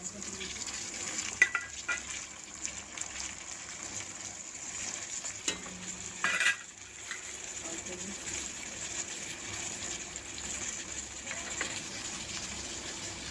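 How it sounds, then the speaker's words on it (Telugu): Tomatoes fry in a pan for a potato kurma while being stirred, a soft ongoing sizzle broken by occasional scrapes and clinks, with a brief louder burst partway through. "ఇలా వేగిన తర్వాత టమాటాలు వేయాలి"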